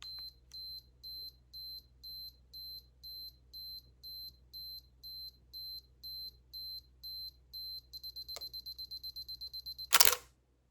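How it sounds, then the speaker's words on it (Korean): A camera self-timer beeps steadily in evenly spaced pulses, speeds up into rapid beeps near the end, then the shutter fires with a sharp mechanical click. "0번으로 놓고 셀프 타이머 촬영을 한다면"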